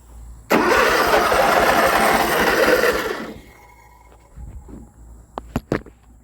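A John Deere riding mower that sat unused for two years cranks and sputters loudly for about three seconds, then dies, followed by a few faint knocks and sharp metallic clicks.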